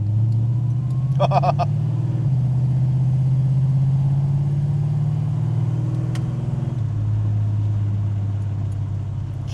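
A 1969 Dodge Charger on stiff adjustable shocks driving along, a steady low engine rumble throughout with a brief rattle of clunks early on, close and continuous.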